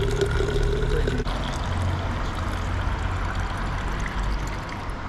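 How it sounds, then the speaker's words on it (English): Tap water from a public refill tap in Dorchester pours in a steady, continuous rushing stream, close and fairly loud, with no talking. "Top up with tap water here."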